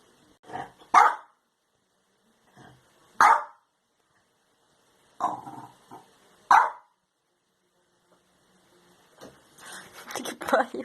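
A female dog barks in separate loud bursts, some paired and some single, with brief gaps between them, ending in a dense run of rough barks and growling. The dog sounds close and stands alone with no speech over it.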